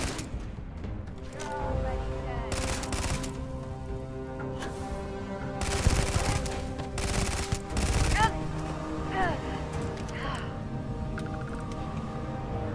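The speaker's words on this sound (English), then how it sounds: "Somebody's still out here taking pot shots." An enemy shooter taking scattered shots in the Starfield space game: several loud bursts of gunfire stand out over a steady music bed, with quieter pops in between.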